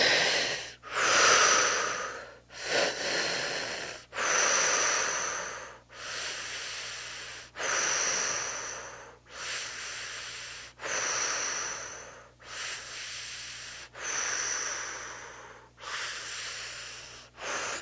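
Slow, deep breathing exercise with long exhales: a voice's breaths come in a steady cycle of about nine loud, close, airy breaths, each a long hissing whoosh separated by brief quiet gaps.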